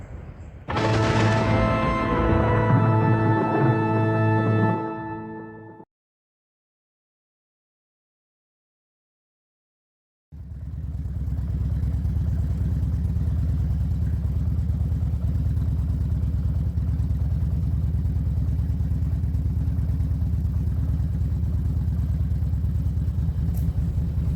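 A motorcycle engine hums steadily with wind noise, drops out briefly, then resumes as a continuous low rumble while riding.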